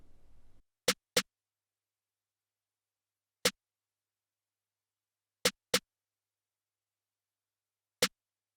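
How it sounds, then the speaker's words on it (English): Snare drum sample for a beat, struck alone in sparse, irregular hits, crisp short broadband cracks with silence between them, near and clear. "And this is what the snare sounds just by itself."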